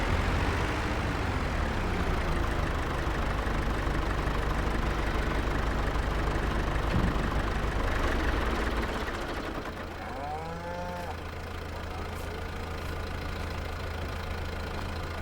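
Tractor engine straining uphill with a full front-loader bucket and slipping clutch in Farming Simulator 22, a steady loud low drone that drops and eases after about nine seconds, with faint whining tones near the end.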